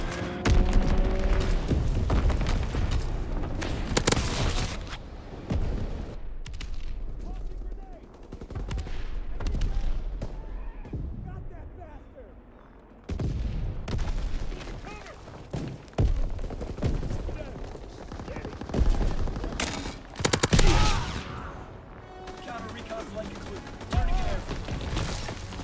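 A Call of Duty strafing run, with dense, loud gunfire and booming explosions that keep rolling and swell in several waves, while voices call out over the battle.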